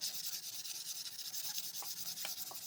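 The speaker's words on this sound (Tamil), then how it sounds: "இந்த சாஃப்டான உப்புத்தாலை வச்சு லைட்டாக தேய்த்து பாலிஷ் பண்ணிடலாம்" Soft sandpaper is rubbed lightly over the wooden part of a window in a quiet, even back-and-forth scratching, with a few faint knocks near the end.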